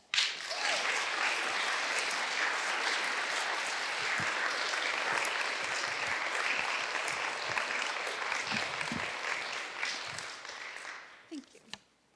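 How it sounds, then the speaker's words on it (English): Audience applause at a spring gala soirée for a mental health association: dense, steady clapping from a large crowd that holds for about eleven seconds, then thins and fades out at the end. "I would ask that we all stop and acknowledge them now with a round of applause."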